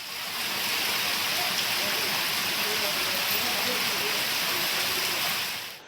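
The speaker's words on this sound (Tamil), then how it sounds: "காலை முதல் சென்னை மற்றும் புறநகர் பகுதிகளில் பரவலாக மழை" Widespread rain falls across Chennai and its suburbs, a dense, steady hiss of downpour that holds at an even level before fading at the very end.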